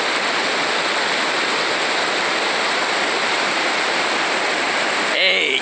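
Water overflows the spillway of the Acaraú Mirim reservoir in Massapê, Ceará, as a loud, constant rushing roar with no let-up and a brief disturbance at the very end.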